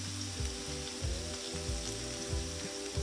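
Cream cheese wontons fry steadily in hot oil, a constant close sizzle with soft bubbling pops, no voices.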